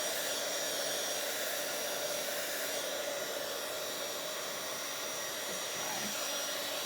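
A heat tool drying watercolor and gesso on a Bible journal page, a loud steady blowing whoosh that stays constant throughout without talk.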